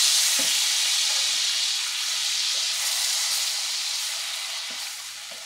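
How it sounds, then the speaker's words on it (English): Ham steak fries over medium heat as brown sugar glaze is stirred in, giving a soft, even hiss with a few faint clicks from the pan and no talking. "Stir that in."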